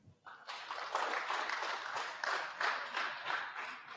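Audience applause at a career-day presentation, a steady wash of many hands clapping that swells after a brief start and stays fairly loud throughout.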